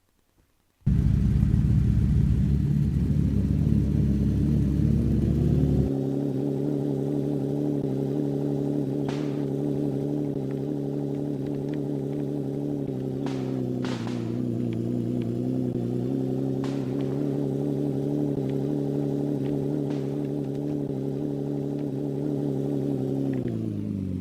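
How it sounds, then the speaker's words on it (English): A synthetic rally-game car engine drones at steady revs, its pitch rising slightly and holding, with a few faint clicks over the continuous hum. "you should hear the engine climb now and then reclimb"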